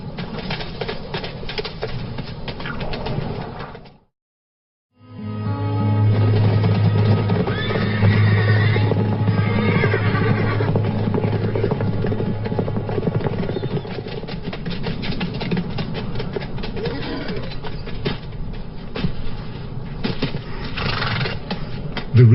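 Wild desert horses whinny loudly and move about, with strong neighs and some hoof sounds carrying over an open outdoor backdrop, a brief silence cutting in near the start.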